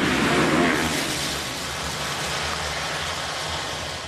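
A pack of 450-class motocross bikes revs at the start of a 2009 race at Freestone, Texas, making a loud, dense, sustained engine roar that eases slightly after the first second.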